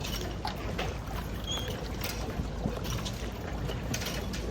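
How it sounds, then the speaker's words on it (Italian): Sailboats moving on the water at Salò, with steady lapping water and occasional soft creaks and knocks from boat fittings, a continuous gentle wash without voices. "l'acqua con i rumori della barca a vela proprio"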